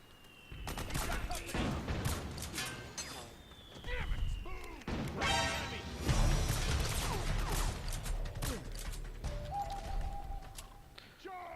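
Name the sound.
suppressing gunfire in video game Metal Gear Solid 4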